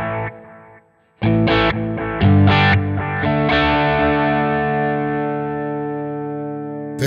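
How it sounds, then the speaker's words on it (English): A guitar played through the analog delay setting of a Sonicake Matribox 2 multi-effects unit; a few picked notes and chords ring out, trailed by warm, softly repeating echoes that decay gradually. "Sweet is producing warm, natural analog delay sound."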